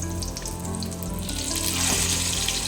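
Eggplant omelet frying in a pan of oil, a steady close sizzle throughout with a slight swell near the end, no talking.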